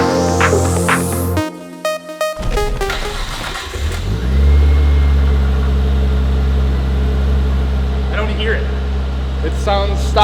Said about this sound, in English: It sounds stock, like the stock exhaust should.